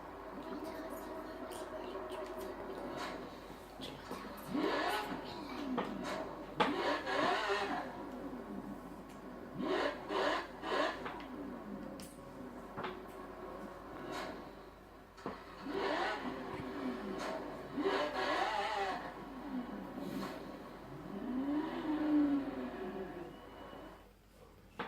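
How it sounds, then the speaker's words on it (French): Lamborghini Centenario V12 engine in Forza Horizon 3, repeated revving and accelerating pulls with rising and falling pitch, moderately loud, with someone talking in between. "on va démarrer la Lamborghini Centenario"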